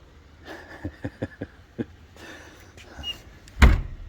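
A house door fitted with a custom Defiant knob is handled with several sharp latch and handle clicks, then swung shut with one loud, close slam.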